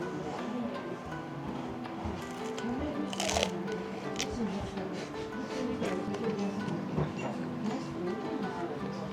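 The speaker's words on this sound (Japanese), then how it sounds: "じゃあちょっとネギを噛んでみます。" Crisp, crunchy chewing of green onion with soba noodles, close and wet, with irregular bites over several seconds while a person talks.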